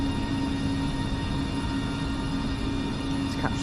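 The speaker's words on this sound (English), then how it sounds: "Off goes the Nova, or the special train" A CAF Nova train departs Bolton station, a steady loud drone with a sustained low tone running throughout, plus a faint squeal near the end.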